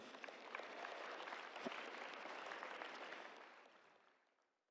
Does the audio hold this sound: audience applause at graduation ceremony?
yes